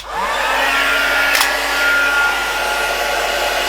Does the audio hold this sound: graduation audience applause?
no